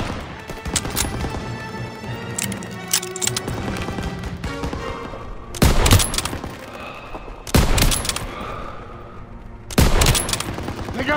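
Heavy gunfire in the World War II shooter Call of Duty: WWII, a busy battlefield of rifle and machine-gun bursts with three loud broadband blasts standing out over constant crackling fire.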